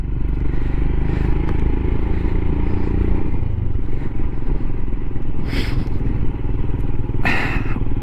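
Himalayan motorcycle ridden along a road, the single-cylinder engine droning steadily and loudly throughout, with occasional rattles and rushes of wind from close by, and no talking.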